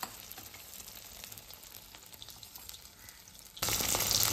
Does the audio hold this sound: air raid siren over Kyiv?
no